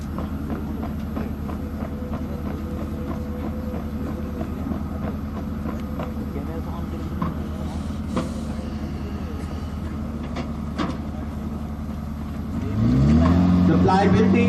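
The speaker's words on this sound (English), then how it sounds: "Using the auxiliary power unit, the gun can move at a maximum speed of 7 kilometers per hour." Towed artillery gun crawling along at up to 7 km/h on its own auxiliary power unit, a steady low engine drone throughout that swells louder near the end as the unit revs, with a narrator speaking over it.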